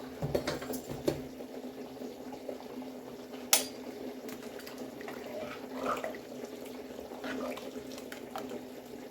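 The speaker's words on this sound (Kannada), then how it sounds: "ಈ ಕಡೆ ಸಾಂಬಾರು ಕುದೀತಾ ಇದೆ" Village-style sambar boils in a pot, a faint, low bubbling with scattered soft pops and a sharp clink partway through, heard quietly in a kitchen.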